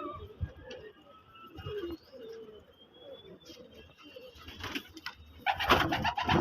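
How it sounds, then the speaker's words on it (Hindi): Pigeons cooing on a rooftop in soft, low, rounded calls, fairly close, with some rustling and fluttering building toward the end. "तो आप देख सकते हैं अपने जो कबूतर हैं यहाँ पर मौजूद हैं।"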